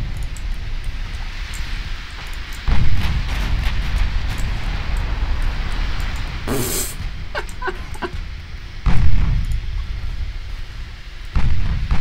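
Warship guns boom in the naval video game Ultimate Admiral Dreadnoughts, three heavy low blasts spaced a few seconds apart over a constant rumbling background, with a sharp crackling burst in the middle.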